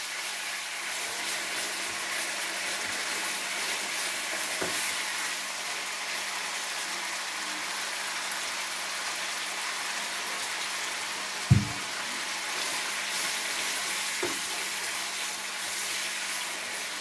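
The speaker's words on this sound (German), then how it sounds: "Also so lange jetzt hier braten, bis sich jetzt die Farbe ein bisschen ändert" Chicken pieces frying in a pan for an Asian-style noodle, chicken and vegetable dish, a continuous hissing sizzle with a few sharp clicks and one clear knock of utensil against pan partway through.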